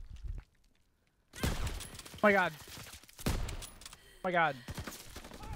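Gunfire in a video game comes in two short, loud bursts of rapid shots, separated by quieter gaps, with a player's excited voice heard between them.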